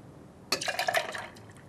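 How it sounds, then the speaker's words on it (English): Shrub syrup pours into a vodka cocktail in a glass, a short close splashing trickle lasting under a second before it tapers off. "And now I'm going to go ahead and pour the shrub in."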